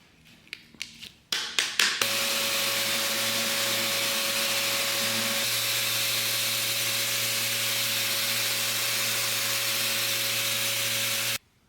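A power sander with 80 grit sandpaper runs steadily across a thrift-store 1980s coffee table, a loud continuous whir with a steady hum, following a few short knocks at the start.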